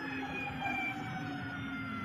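Siren-like motor whine from an Energica Esse Esse 9 Plus electric motorcycle under front engine braking, a steady tonal drone with layered harmonics held at an even level for about two seconds, with no talk.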